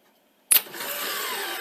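A Sony SL-C30 Betamax front loading mechanism clicks sharply, then a small motor whirs steadily as it winds, close up and alone.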